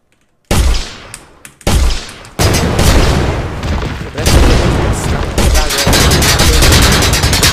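Loud explosions and crashing destruction from the Where Is My Hammer video game: sudden booms at the start, then a continuous dense roar of blasts and debris that stays loud to the end.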